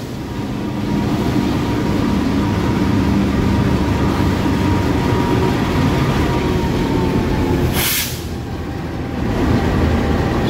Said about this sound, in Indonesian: Dan ini adalah rangkaian kereta api Papandayan.